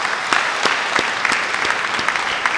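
Baptist church congregation at a Sunday worship service applauding steadily, a full wash of many hands with a few sharper claps standing out near the front.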